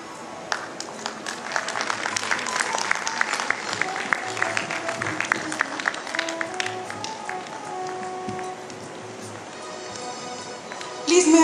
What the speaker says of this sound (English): Ladies, let's hear it for Mrs. Madhvi Mala, who is an ETV anchor and also a cine artist.